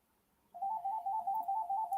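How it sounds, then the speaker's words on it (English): A telephone rings in the background, an electronic trilling tone that starts after a short quiet moment and pulses steadily and faintly in a repeating pattern. "there's the phone ringing in the background"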